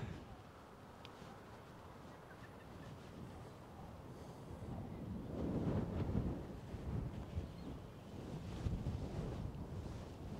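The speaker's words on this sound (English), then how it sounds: "Wind's blowing hard across me from that side." Strong wind buffets the microphone on an open golf course, a rough low roar that swells and gusts in waves, loudest around the middle and again near the end, with no clear voices.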